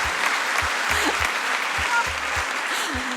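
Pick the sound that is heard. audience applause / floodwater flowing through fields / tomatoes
audience applause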